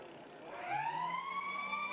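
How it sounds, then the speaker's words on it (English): Final siren at a WAFL Colts Australian football match between Claremont and East Perth: a long rising wail that swells in, sustained and loud across the ground, with no talk over it. "Harry Brooks will take his time and wait for the siren"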